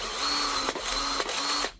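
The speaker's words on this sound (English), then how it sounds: "So you push the lever over, it will run" An old Hitachi cordless drill with a stripped gearbox runs in three short whining bursts. Each burst is separated by a brief break and a slight drop in pitch, and the sound is close and fairly loud with no speech.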